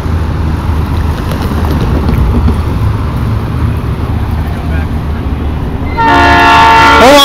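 A train rumbles past at close range, a steady low roar of wheels and cars, then a loud train horn blasts in at the end with strong sustained tones, on the Durango and Silverton line behind a GE engine.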